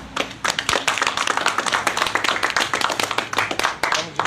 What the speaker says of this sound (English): I just want to give a round of applause for the tireless and courageous efforts of Mariah Crenshaw